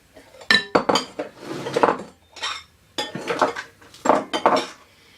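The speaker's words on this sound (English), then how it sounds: "And now you just give it a last mix" A spoon clinks and scrapes against a bowl while coloured cake batter gets a final mix, several short bursts of stirring with brief pauses between them, close and clear with no talking.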